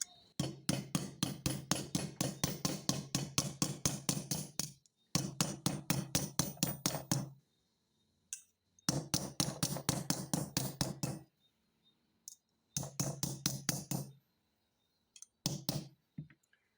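Repeated sharp metallic hammer blows on salvaged copper tubing being shaped into a cuff bracelet, delivered in fast, even bursts of strikes separated by short pauses, close and clear with no talking.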